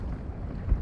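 Wind gusting around a small fishing boat out on the water, a steady low rumbling buffet that stays loud and close throughout, with no talking.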